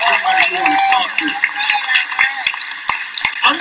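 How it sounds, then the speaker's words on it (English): Audience at a GetMotivated event in Chicago clapping, scattered sharp claps heard beneath a voice speaking loudly over them, easing off toward the end. "So give her another round of applause."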